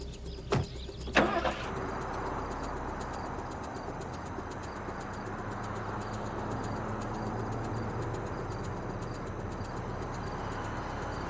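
A car door or latch clunks twice at the start, then a car engine settles into a steady, moderately loud running drone with a faint whine above it, continuing evenly to the end with no speech.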